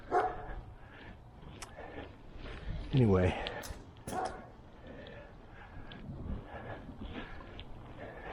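A single dog gives a short, sharp bark at a distance partway through, heard over wind, breathing and outdoor noise.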